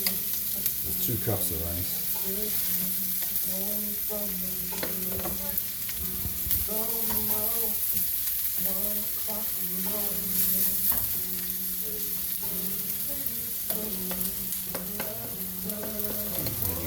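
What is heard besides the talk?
rice frying and being stirred in a pan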